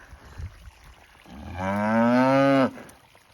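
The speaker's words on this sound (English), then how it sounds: "these are the very loud cows" One cow gives a single long, loud moo nearby, rising and holding for about a second before cutting off, with quiet surroundings.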